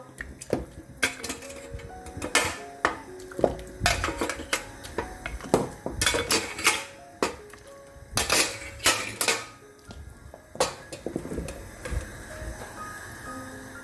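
Pork bones going into a pot of boiling water bring a series of sharp clanks and metallic knocks against the pot, irregular and close, over a low bubbling background.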